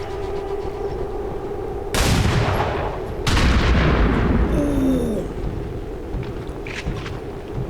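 Heavy gunfire bursts from the video game XCOM 2, two loud, dense volleys with rumbling tails over a low game soundtrack, followed by faint effects.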